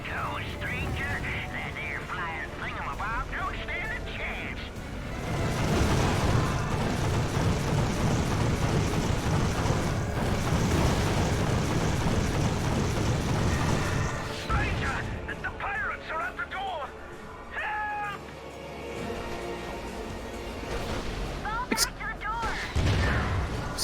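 Rapid turret fire in Ratchet & Clank Future: Quest for Booty makes a dense, continuous barrage of shots and blasts, loud for most of the stretch before easing. Character voices talk over the shooting.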